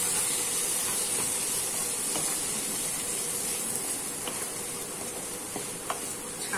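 Bitter gourd pieces hit a hot pan for a Maharashtrian crispy fry, giving a steady, broad hiss of sizzling oil throughout with a few faint clicks of stirring and no talk.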